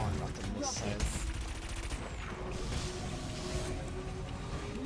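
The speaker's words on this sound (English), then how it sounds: "I got hit by 2 missiles in a row" Missiles striking the player's racing craft in Wipeout HD, a dense rattling burst of impacts over a continuous engine drone, loud and busy throughout.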